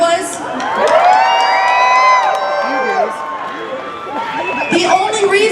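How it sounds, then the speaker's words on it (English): A large crowd at a pro-life rally cheers and whoops loudly and continuously throughout, shouting voices layered over sustained noise, with a speaker's voice heard over the crowd. "cheer if you were born after 1973"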